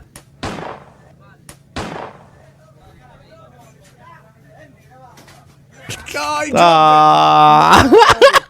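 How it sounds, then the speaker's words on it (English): A shotgun loading sound effect: two sharp, separate mechanical clacks over a quiet background, then a voice rising loudly at the end. "Shotgun loading sound effect."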